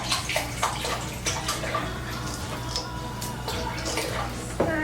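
Liquid poured into a bowl of homemade turkey dressing, a steady splashy trickle running for several seconds over a low room hum, with a brief louder splash near the end.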